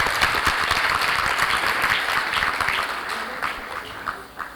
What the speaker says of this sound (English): Can we give all the speakers a round of applause,